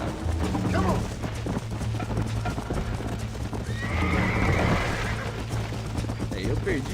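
A horse in the Red Dead Redemption video game clip-clops in a rapid gallop and lets out a loud whinny midway, with someone talking over the hoofbeats.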